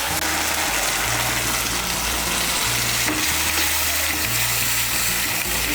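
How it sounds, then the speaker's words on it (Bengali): Spice paste with turmeric, a little water and salt is stir-fried in a pan. A loud, continuous sizzle and hiss fills the whole stretch, with stirring scrapes mixed in and a low steady hum underneath. "মিশিয়ে নিয়ে মশলাটাকে ভালো করে কষিয়ে নেব।"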